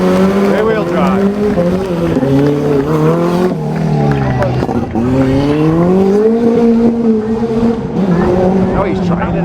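A classic rear-wheel-drive Renault Gordini passes in a rally car parade in Salou, Spain, its engine note rising and falling steadily over about nine seconds, loud and close, with voices heard over the engine.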